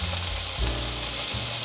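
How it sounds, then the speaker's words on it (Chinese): Marinated bean curd sheet rolls pan-fry in oil until browned, giving a steady, close crackling sizzle throughout with a low rumble underneath. "再继续让它煎"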